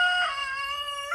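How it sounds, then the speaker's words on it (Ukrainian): A rooster crows close by, one loud sustained harmonic call that rises and holds, with a brief second burst at the end. "я вибачаюся за цього півника"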